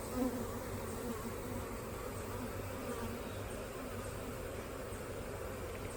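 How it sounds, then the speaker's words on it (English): A dense, continuous buzz of many honeybees humming together at a hive being set up from a nuc, steady and moderately close with no talking. "Typically a swarm will be a lot of young bees ready to make wax."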